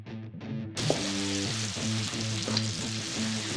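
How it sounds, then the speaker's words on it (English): Fish for tacos drops into smoking hot oil in a skillet, bursting into a loud, close, continuous sizzle and crackle that holds steady, with some low background music underneath. "when the oil starts to smoke, then we're going to add the fish to the pan"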